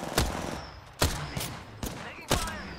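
Gunfire in the Apex Legends video game, four sharp shots spaced roughly half a second to a second apart, loud and close over a busy background.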